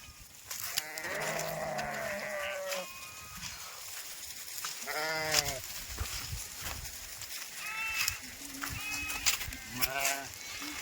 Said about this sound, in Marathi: निघल्या मित्रांनो मेंढ्या आता या पातीच्या रानात